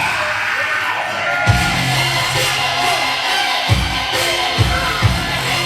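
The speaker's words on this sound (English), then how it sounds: "Watch this audience scream when this man comes out." A wrestling show crowd screams, whoops and cheers loudly as a wrestler makes his entrance, with a sustained roar swelling in several bursts throughout.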